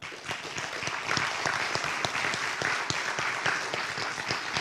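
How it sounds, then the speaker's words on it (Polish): Warm applause fills a Christian music festival hall, with a crowd clapping steadily and distinct sharp claps punctuating the even wash of sound. "Dla nich wszystkich także gorące brawa."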